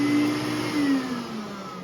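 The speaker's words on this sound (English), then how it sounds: "rather than going around and turning on the vacuum like that, with that button, you can just press this" A Festool CT-MIDI dust extractor switched on by Bluetooth remote runs with a loud, steady whine and airy rush, its motor pitch sliding slightly downward as it settles, with no talking.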